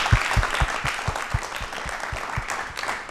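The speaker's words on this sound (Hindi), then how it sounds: "तो एक बार तालियां जोरदार बनती है ना" Loud applause from the studio audience at a televised talk show, many hands clapping together in a fast, dense, steady patter that lasts throughout, close by and with no voices.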